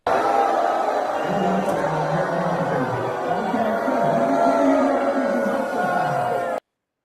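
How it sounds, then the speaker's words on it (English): A crowd boos in a played recording, a dense, loud roar of voices that holds steady for about six seconds, with a few lower shouts rising through it before it cuts off abruptly. "so you can hear the booing"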